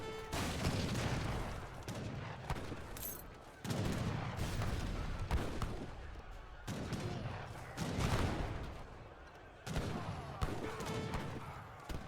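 Heavy cannons fire in the strategy game Age of Empires III, a dense, continuous barrage of booming artillery blasts with overlapping explosions that rise and fall in bursts throughout.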